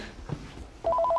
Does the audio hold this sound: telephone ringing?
yes